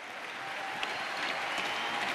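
A large hockey arena crowd of over 17,000 applauds steadily and at a distance as an injured player is stretchered off, a soft continuous wash of clapping.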